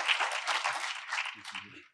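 Award-ceremony audience claps for the winners, a fairly quiet, even patter of many hands that thins out and fades toward the end, with faint murmuring voices underneath.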